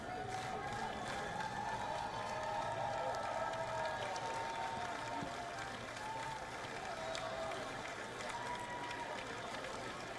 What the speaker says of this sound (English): a lot of hugs as the applause continues.